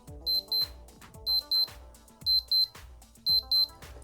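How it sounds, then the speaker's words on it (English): A Casio DB-520 vintage Data Bank digital watch alarm sounds in repeated pairs of short, sharp, high beeps, four double-beep bursts in an irregular rhythm, close and clear. "Irregular beep beep alarm."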